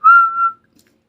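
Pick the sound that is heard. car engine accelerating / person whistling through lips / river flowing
person whistling through lips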